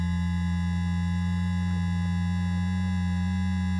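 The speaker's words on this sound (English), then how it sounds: "Let's just leave that as a sine wave, just to give it some grounding, some stability." Steady sine wave tone from the ArcSyn synthesizer oscillator, a continuous low hum with fixed pitch and stable level throughout, no voices.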